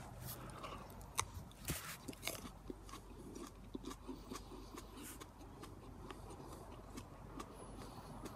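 A pepper being bitten and chewed up close: faint, crisp crunching and soft wet chewing clicks that repeat irregularly over a quiet background, with no talking.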